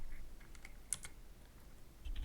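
Quick, light keystrokes on a computer keyboard, a short burst of soft clicks in an irregular rhythm, close but faint in a quiet room, with no talk.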